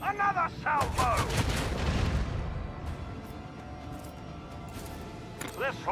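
Cannon salvo from a warship in the video game Warhammer 40k: Rogue Trader, a loud rolling barrage of booms that swells and then fades into a rumbling decay, with a voice speaking at the start and the end.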